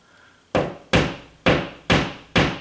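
A hammer drives a nail into a wall, likely hitting a stud, with five sharp, loud, evenly spaced blows after a brief quiet start and no talking.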